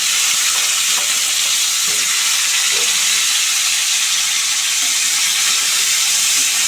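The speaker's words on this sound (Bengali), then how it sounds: "পটলগুলো আগে একটু অল্প করে নেড়ে চেড়ে ভেজে নেব" Pointed gourd (potol) frying in a pan with salt gives a steady, close, loud sizzle and hiss that holds evenly throughout, with no voices.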